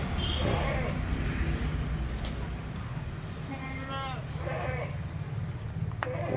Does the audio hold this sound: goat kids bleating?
yes